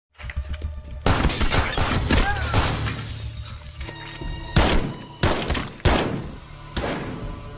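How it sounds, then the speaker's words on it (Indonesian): A film shootout between police and a lone gunman: heavy, loud bursts of gunfire crack out with shattering impacts, then give way to separate sharp shots spaced a second or so apart. "terjadilah baku tembak"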